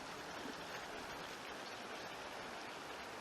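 Running water of Cheyenne Creek flows steadily in a continuous broadband rush, close and fairly loud, with no talk over it during a morning ride outing.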